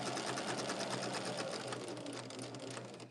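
A sewing machine runs fast, stitching quilt sashing, a close, steady whirring with dense rapid needle ticks that carries on evenly and begins to fade at the very end.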